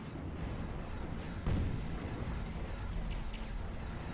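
Artillery fire and explosions rumble through a Zero-K real-time strategy battle, a dense continuous barrage of booms with one heavier blast standing out, and scattered later impacts.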